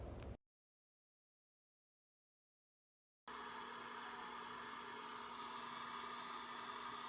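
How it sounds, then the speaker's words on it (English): A heat gun warms candle wax in a mixing pot. After a brief cut to silence, a steady, faint blowing whir runs without a break. "you'll always use your heat gun to get the last drop"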